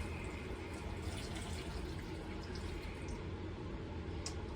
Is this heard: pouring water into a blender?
yes